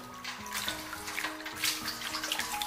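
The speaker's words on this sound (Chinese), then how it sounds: "这里我们一定要用温水洗" Raw lamb meat being washed by hand in warm water in a kitchen basin, with steady splashing and sloshing water running continuously throughout, close and fairly loud, no talking.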